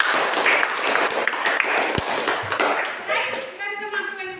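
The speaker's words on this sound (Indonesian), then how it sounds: "Tepuk tangan untuk Santi." A seventh-grade class claps in a burst that fades out, mixed with voices and classroom chatter.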